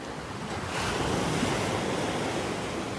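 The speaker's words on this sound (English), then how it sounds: "the waves are breaking right here on shore" Ocean waves break close by on shore at high tide with a swelling roar of surf, mixed with steady wind, at East Beach, Santa Barbara.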